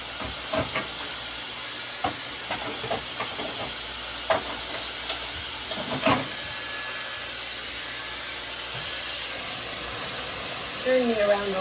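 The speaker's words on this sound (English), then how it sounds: "I'll do some of the blow dry so you can see that." A hair dryer blow-drying a salon client's hair, a continuous airy whoosh running the whole time with faint handling clicks and taps over it and a brief voice at the end.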